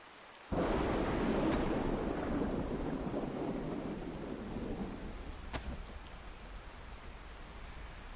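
Thunder cracks and rumbles in the video game DayZ on PS4, opening with a sudden loud boom that rolls into steady heavy rain, with a second fainter crack midway and no talking.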